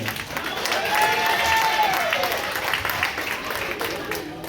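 An audience breaks into sustained applause mixed with cheering and whoops, loud and full, gradually easing toward the end.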